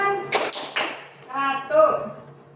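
Hand claps in a classroom counting game, a few sharp close claps early on, followed by a teacher and students speaking.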